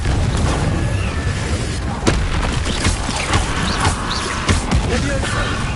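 A Confringo blasting spell going off in Hogwarts Legacy, heard as a series of booming impacts and blasts within dense, loud combat noise, with a voice heard among the action.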